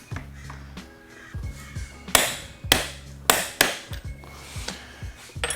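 Sharp metallic clicks and taps from tightening the steering stem nut on a Honda 450 to 80 foot-pounds while fitting ProTaper triple clamps. Several crisp, close transients come in an irregular series over low workshop hum, with no talk.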